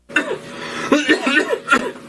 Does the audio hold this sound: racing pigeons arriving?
no